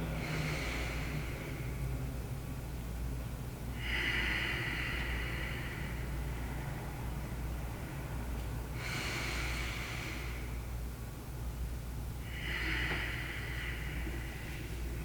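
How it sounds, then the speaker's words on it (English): Slow, audible breaths during a seated yoga breathing exercise, four long airy exhales spaced a few seconds apart, soft and close over a steady low background hum. "Nice audible exhale."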